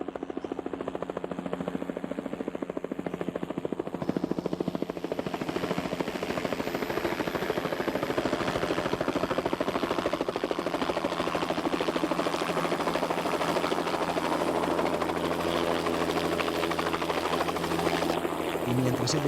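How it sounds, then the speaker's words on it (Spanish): A helicopter bringing in supplies comes in to land, its rotor and engine producing a steady, loud broadband drone that fills the whole stretch without any voices. "esperando la llegada del helicóptero que nos traía los víveres"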